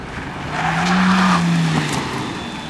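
A 1.6-litre petrol car engine with a 6-speed gearbox revs up and climbs in pitch, a steady rising drone that swells and then eases off, fairly loud, with no one speaking.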